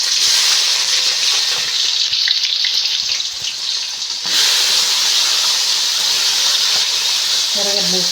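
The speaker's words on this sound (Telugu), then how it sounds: "ఆయిల్ కాగినాక ఆవాలు వేసుకున్నాం. అలాగే ఎర్రగడ్డలు," Mustard seeds and onions fry in hot oil for a potato fry dish. A loud, continuous sizzle and hiss lasts throughout, up close, with a few brief clinks near the end.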